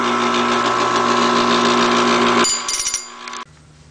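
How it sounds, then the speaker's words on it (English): Bench grinder shaping a knife blade: a loud, steady motor whine with a constant tone that cuts off sharply, then a brief grind of metal and a quiet tail as it spins down. "Now we need to do some final grinding, shaping over here on the bench grinder."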